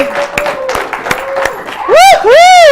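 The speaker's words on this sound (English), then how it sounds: "Big round of applause." A small studio audience at a fashion makeover show gives scattered, distinct claps that are close and sharp, followed by loud, high whooping cheers.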